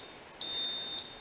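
A single high-pitched electronic beep about half a second long from an automatic fire detector on a fire alarm demonstration model, quiet and clean against a soft background hiss.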